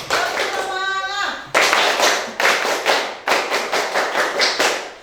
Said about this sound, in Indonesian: Lagi semangat. Tepuk semangat.